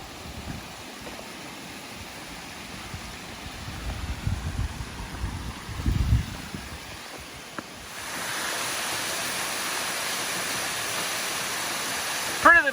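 Summerhill Force waterfall in the Yorkshire Dales runs at low flow during a dry spell, a steady rushing wash that grows fuller and louder partway through, with some low rumbling handling noise and possible quiet talk early on.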